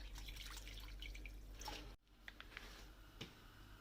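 Cold tap water running into a pot in a kitchen, a steady rushing pour that cuts off halfway, followed by a few faint drips and light clinks.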